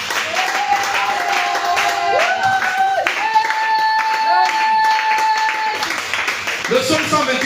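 A church congregation at a combat prayer service claps steadily to acclaim the Lord, a dense, continuous wash of applause mixed with raised voices and sustained tones.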